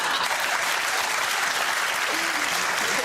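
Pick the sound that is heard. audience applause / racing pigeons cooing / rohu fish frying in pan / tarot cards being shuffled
audience applause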